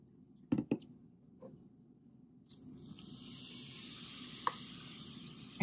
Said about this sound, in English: we could tell immediately that there is a chemical reaction going on because we do have fizzing. So a gas is being formed.